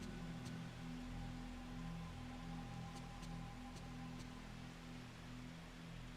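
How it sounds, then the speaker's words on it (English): Soft, steady rain in the video game Fatal Frame 3, a faint continuous hiss enveloping a house, with a low hum beneath and a few light drip-like ticks. "Something comforting about the sound of rain, the way it seems to envelop the whole house and everything in it."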